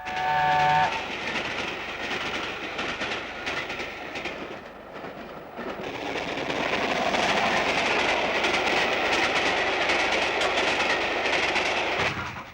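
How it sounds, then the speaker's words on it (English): The Silver Jubilee Express rumbles past loudly on the rails at 112 miles an hour, a steady roar with a brief whistle toot at the start, easing slightly midway before surging again. "to mark the Jubilee of King George V, a new train, the Silver Jubilee Express, flashed along at 112 miles an hour"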